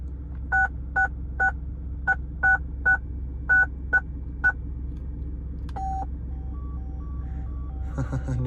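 Factory car phone in a 1994 Lexus LS400 giving a quick run of about a dozen short dialing beeps, then a longer tone and a few faint repeating blips over a low steady engine or cabin hum.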